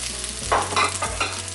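Ginger and garlic fry in a pan with chili for a green moong and mushroom curry, a close, steady sizzle broken by a few brief louder stirring bursts.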